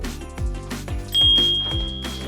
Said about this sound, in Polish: Chodź zadzwoni na dzwoneczku! Umiesz zadzwonić na dzwonku?